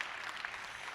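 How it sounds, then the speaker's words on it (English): Audience applause honoring the Kelly Martin Best Designer award at an awards event: a dense, steady wash of clapping for one continuous second, with no gaps. "Yeah, clap that up."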